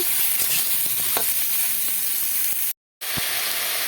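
Ridge gourd fries in a pan with a continuous loud sizzle, while a utensil stirs it in occasional scraping strokes. The sound breaks off briefly near the end, then the sizzle resumes.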